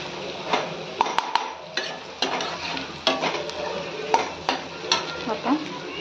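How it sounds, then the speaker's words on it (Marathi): Turmeric is stirred into sizzling aloo matar poha ingredients in a pan, with a spatula scraping and knocking against the metal in uneven strokes, near and fairly loud over a low frying hiss. "तर याच्यात थोडी हळद घालून घेऊयात. छान परत एकदा मिक्स करूयात म्हणजे हळद"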